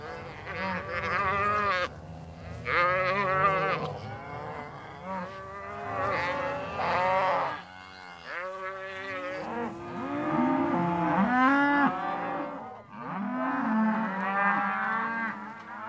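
Cattle in a Montana ranch herd mooing and bellowing repeatedly, loud and close, with several overlapping calls from different animals throughout and no talk.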